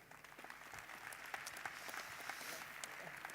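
Low and distant, an audience at a conference session claps in a dense, even patter for a few seconds after a student presentation.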